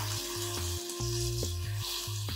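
Water with turmeric and green chillies sizzles and bubbles in a pan over a high gas flame, a steady close frying hiss with faint rhythmic clinks and no talking.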